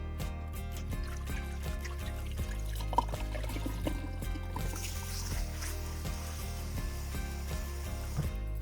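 Rinse water poured off a pot of rice after the third wash, once the water runs clear. A steady trickling pour runs throughout, close and moderately loud, over a faint constant background.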